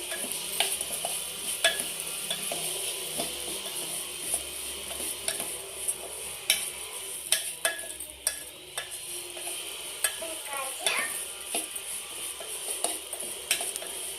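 A handful of vermicelli fries in ghee in a pan, a bright steady sizzle broken by frequent clicks and scrapes of a spoon stirring against metal.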